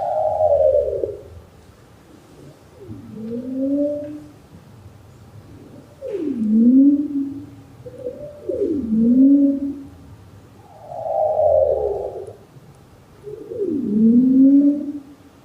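Underwater ambient recording at Rangitahua in the Kermadecs, carrying a series of low, swooping moans and tonal calls repeated every couple of seconds, fairly loud and clear over a faint low rumble, with no one speaking.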